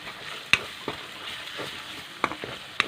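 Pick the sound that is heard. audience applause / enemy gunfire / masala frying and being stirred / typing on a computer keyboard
masala frying and being stirred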